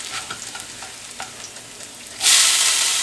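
A hash brown fries in a pan for a Denny's-style Grand Slam breakfast, giving a steady close sizzle that swells into a louder, brighter hiss near the end, with no talking.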